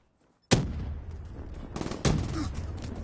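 Call of Duty gunfire erupts after a brief silence: a loud, sharp shot opens the burst, a second heavy crack follows about a second and a half later, and rattling reports echo between them with no talking.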